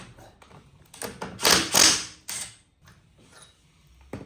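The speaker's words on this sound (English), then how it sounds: "we may as well do it with the impact gun because the impact gun's going to do it good" An impact gun works a part loose on a ride-on lawnmower: two loud, rattling mechanical bursts close together, then quieter clicks and knocks alone with no talk.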